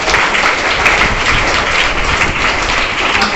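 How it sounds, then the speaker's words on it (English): A classroom audience applauds a student during a French Revolution history quiz at St. Louis School, dense steady clapping filling the room, loud and continuous without a break. "Clap for her."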